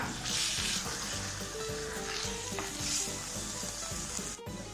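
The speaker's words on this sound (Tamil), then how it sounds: "இதெல்லாம் நல்லா மிக்ஸ் பண்ணிக்கலாம்." Chili and curry spice powders sizzle as they are stirred in a clay pot for a Tamil fish curry, a loud, continuous frying hiss with rhythmic scraping strokes of the spoon, close up, with no voices.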